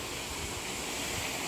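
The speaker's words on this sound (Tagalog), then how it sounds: "Yan ang waterfalls na tinatawag." Magallanes Falls, a cold spring waterfall, pours in a steady broadband rush that is distant and fairly soft, with no voices over it.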